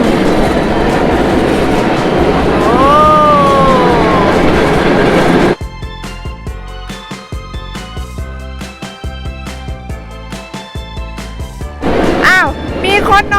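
A small tourist train in Suan Phueng, Thailand rumbles along with a rhythmic clickety-clack of wheels on track, and voices are heard at the start and end.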